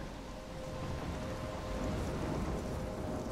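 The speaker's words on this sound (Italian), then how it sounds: "Sono nel mezzo di una tempesta." A thunderstorm in the video game Life is Strange: steady, dense rain hiss with a low rumble of thunder underneath, continuous and loud throughout with no voices.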